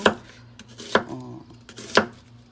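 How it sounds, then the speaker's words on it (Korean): A knife slices a large onion into strips on a cutting board, giving three crisp, close chops about a second apart, with faint scraping between them. "양파를 한 4분의 1개 정도 먹기 좋게 그냥 이 정도 사이즈로 채 썰어서 준비할게요"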